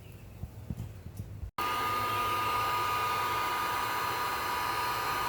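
Heater or hair dryer blowing to dry out a wet floor threshold under linoleum. After some quiet handling noise it switches on abruptly and runs as a loud, steady, close airflow whoosh with a constant motor whine.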